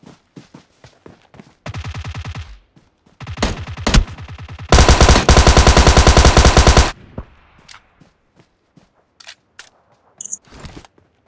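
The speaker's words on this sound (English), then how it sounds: "Somebody's shooting from here." Automatic gunfire from a UMP and Uzi-style weapons in a PUBG Mobile duo match, with loud rapid bursts of several seconds each, separated by short gaps and scattered single shots, with no talking.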